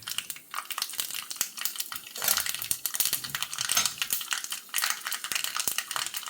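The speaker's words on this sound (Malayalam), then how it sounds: "ഈ കടു വറക്കാനായിട്ട് നമ്മൾ കടു വറക്കാനായിട്ട് വച്ചിരിക്കുകയാണ് കടുവൊക്കെ പൊട്ടിക്കളയും" Mustard seeds pop and crackle in hot oil, a dense run of sharp close pops and spits with bursts of stronger sizzling, heard alone without talk.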